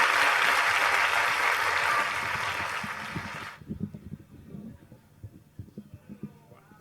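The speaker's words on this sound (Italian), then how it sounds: "Un applauso signori" Audience applause at an evening outdoor party for accordion performers, a loud broad burst of clapping that fades and cuts off abruptly after about three seconds, leaving low thumps and murmur.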